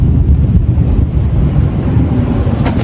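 Strong wind roars steadily against the microphone outdoors in Japan, a loud continuous buffeting rumble with no pauses and no voices.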